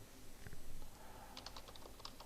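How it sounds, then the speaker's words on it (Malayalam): Quiet, quick keystrokes on a computer keyboard, a short burst of typing clicks in a small room with low background hum. "ഓപ്പൺ ഓഫീസ് എന്ന് ടൈപ്പ് ചെയ്യുക."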